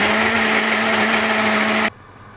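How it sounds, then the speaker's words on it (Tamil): A mixer grinder runs continuously at full speed grinding cashews into powder, a loud steady whine with a strong hum that cuts off abruptly near the end, leaving quiet. "முந்திரியை பொடி பண்ணும்போது நம்ம சட்னிக்கெல்லாம் நிறுத்தி அரைப்போம் இல்லையா, அது மாதிரி அரைக்காமல் ஒரேடியாக"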